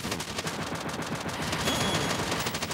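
Rapid, continuous gunfire from the retro-styled video game Retro City Rampage, a dense unbroken stream of shots at steady loudness with no talking.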